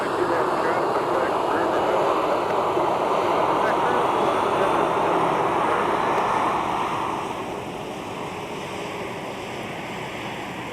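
A Delta Boeing 737-900ER operating Delta Flight 2074 to San Francisco at wintry Minneapolis airport gives off a loud, steady jet roar that drops away and eases after several seconds, with talk over it.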